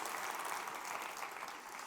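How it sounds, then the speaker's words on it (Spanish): A church congregation applauding at a worship service, a dense continuous wash of clapping from many hands that holds steady and eases slightly near the end, heard from a distance. "Dale un aplauso al Rey bendito."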